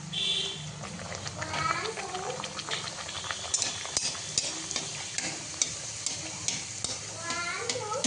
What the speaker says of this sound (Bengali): প্রথম লুচি বেলা কমপ্লিট, এবারে ভেজে নিই